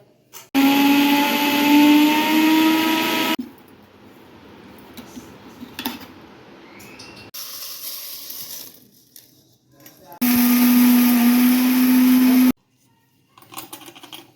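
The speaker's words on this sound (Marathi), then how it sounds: "आता ह्याला बारीक करायचं मिक्सरमध्ये घरीच" A kitchen mixer grinder whirs loudly through fried onion and spices for two bursts of a few seconds each, with quiet clinks and handling of the jar between runs.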